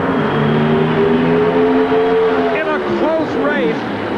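Pro Stock drag race cars with 500 cubic inch engines on racing gasoline and twin four-barrel carburetors, a loud sustained engine howl that climbs and shifts through gears as the cars blast away, under a commentator's voice.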